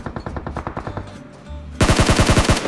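Rapid automatic gunfire in the mobile battle royale game BGMI, a fast steady burst of loud shots that grows heavier and denser partway through, with no talk.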